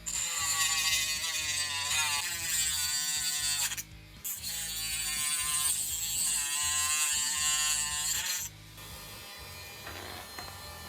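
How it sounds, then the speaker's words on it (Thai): A Black & Decker 8V cordless rotary tool whines steadily as it cuts a small workpiece, loud and continuous with a high buzzing tone, dipping briefly twice as the load eases, no talk over it. "ในส่วนของใบตัดก็จะสามารถตัดได้แบบแจมๆเลยงานชิ้นเล็ก ๆ"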